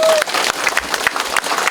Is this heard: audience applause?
yes